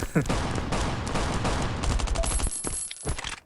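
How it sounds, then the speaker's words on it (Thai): Players trade rapid gunfire in the survival video game Last Island of Survival. Dense overlapping volleys and bursts of shots run throughout, close and loud, then thin out near the end. "โอ้มีคนยิงครับหน้าครับสองคนครับ"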